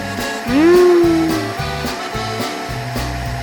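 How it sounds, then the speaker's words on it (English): A noisy cartoon vacuum cleaner drones loudly and steadily, with a rising whistling whine near the start and a rhythmic pulsing pattern in the low end. "Peppa Pig and the noisy vacuum cleaner."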